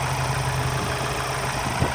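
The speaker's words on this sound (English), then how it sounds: "now the engine starts and everything seems fine" A 2018 Ford Transit van engine idles steadily and close by after a wet belt replacement, giving an even low hum with constant vibration and no talking.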